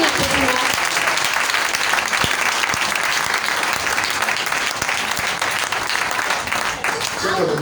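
A church congregation applauds in steady, dense clapping that fills the room, with voices rising through the crowd noise.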